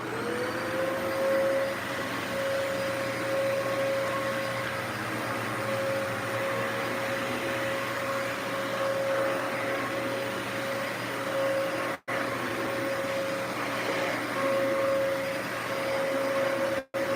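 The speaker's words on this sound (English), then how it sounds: "But look, it's a great vacuum." A Dyson vacuum cleaner runs steadily at close range, a loud continuous motor whine with a fixed tone over broad airflow hiss, cutting out twice briefly near the end.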